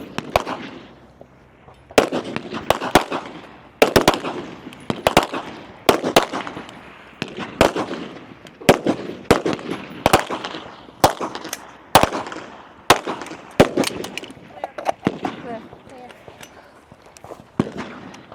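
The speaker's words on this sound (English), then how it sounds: "Both will move to their 8 shots with their pistol." Pistol shots ring out during a women's elite shooting competition stage. Sharp, loud cracks fire in rapid, irregular bursts, with a dozen or more reports spread across the stretch, some overlapping as if from more than one shooter.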